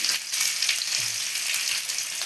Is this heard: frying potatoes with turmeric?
yes